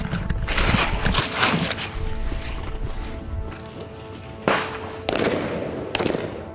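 Gunfire during a commando operation against Naxal insurgents: several sharp, loud shots and cracking bursts that come irregularly, some close together, with short gaps between volleys.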